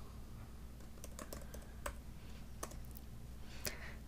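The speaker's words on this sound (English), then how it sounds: "Go ahead and type in your AccessRio credentials." Login credentials are typed on a computer keyboard in quick, light clicks, sparse and quiet at first, then a few louder keystrokes close by.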